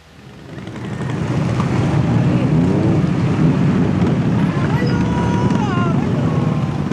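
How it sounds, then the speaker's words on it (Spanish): Steady, loud engine roar from several motorcycles rumbling together throughout, with a rising revving whine near the end and a windy, outdoor feel. "les voy a dar el ruido de los motores"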